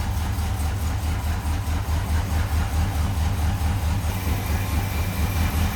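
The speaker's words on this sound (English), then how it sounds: "A little rumble out of that 351." A 1971 Mercury Cougar's 351 V8 idles steadily, a low, even rumble with a regular pulsing beat, heard close and alone.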